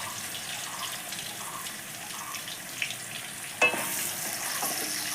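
Potatoes coated with turmeric fry in oil in a pan, a steady close sizzle with a sharp clatter of a utensil near the end, after which the sizzling swells louder.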